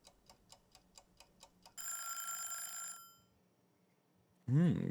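Timer in the video game Adios ticking in a steady run of sharp clicks, then a sustained ringing tone that fades, followed by a brief louder sound at the end.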